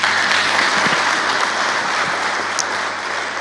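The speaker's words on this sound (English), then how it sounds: "Once again, a better round of applause to Honorable Martha Karua." Loud, dense applause from a large crowd at a funeral service in Kasavuli, sustained throughout without a break.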